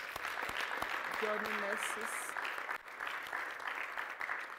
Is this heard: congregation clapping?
yes